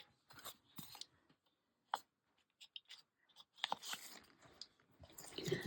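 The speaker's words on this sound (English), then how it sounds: "You can just take your scissors and go around." Faint, sporadic snips and crisp crunchy clicks of scissors cutting paper, in short bursts separated by quiet gaps, growing busier toward the end.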